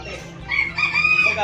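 A rooster crows loudly and close by in a chicken coop, its long strained call rising and holding over the clucking of other chickens in the background.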